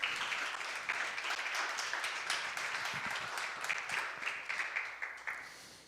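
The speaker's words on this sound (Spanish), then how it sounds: "Dale un aplauso al Señor si tú puedes creerlo." A church congregation applauds continuously, dense clapping at a steady level that thins out and fades near the end.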